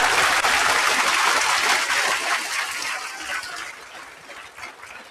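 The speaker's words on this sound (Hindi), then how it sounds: "एक बार जोरदार तालियां।" Loud, sustained applause from an audience at an RAS exam strategy session, honoring a rank-15 exam topper. The dense clapping holds steady and then slowly fades toward the end.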